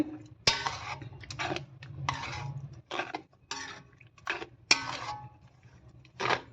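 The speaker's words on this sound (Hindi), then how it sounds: "अब इसके अंदर डाल रही हूँ मैं कस्टर्ड, और चम्मच से अच्छी तरह मिक्स कर लेंगे।" A spoon stirs custard powder into cold milk in a metal pot, giving a string of sharp clinks and scraping bursts at an uneven rhythm, close and fairly loud against quiet surroundings.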